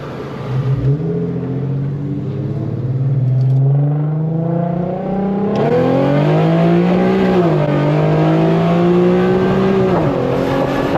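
A tuned Infiniti Q50 engine revs while driving from inside the cabin, loud and close, its steady droning tone climbing and dipping through gear changes with no talking.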